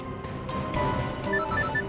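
A telephone rings steadily with a bright electronic ringtone, close and fairly loud, repeating tones over a low background hum with no talk.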